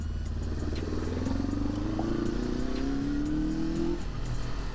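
A 1976 Honda CB500 Four motorcycle engine pulling away in first gear, a steady four-cylinder drone rising smoothly in pitch as it accelerates, recorded close and continuous, then easing off near the end.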